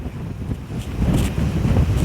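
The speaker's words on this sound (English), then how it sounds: "the winds are really blowing out here" Strong wind gusting outdoors, a steady low rumble of buffeting against the microphone with louder surges through the middle and end, heard alone.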